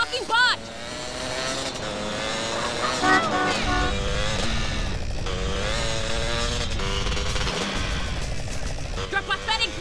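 Car engine roaring and revving throughout a chase in Grand Theft Auto: San Andreas, loud and continuous, with shouting voices and music-like tones layered over the motor noise.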